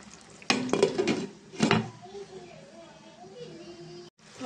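Stuffed brinjal in a garlic masala curry fries in plain oil, with a low sizzle running throughout and two bursts of utensil clatter from stirring near the start.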